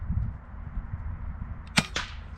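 An FX DRS air rifle fires a shot: a sharp, close crack followed moments later by a quicker second snap, set against a low steady background rumble.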